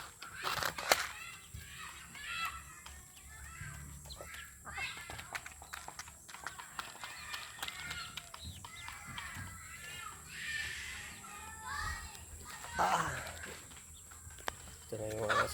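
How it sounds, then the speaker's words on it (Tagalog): Chickens and small chicks cluck and peep around a person outdoors, with scattered bird calls under intermittent nearby talk. "Ito na yung mga sisiyo."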